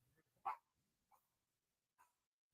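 A dog gives a few faint, separate barks and yips spaced about a second apart in a quiet room.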